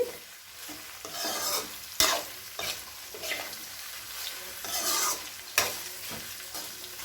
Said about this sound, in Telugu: ఇదంతా కూడా చక్కగా ఎర్రగా వేగేంత వరకు కూడా ఇలాగే మనం ఆయిల్లో వేపుదామండి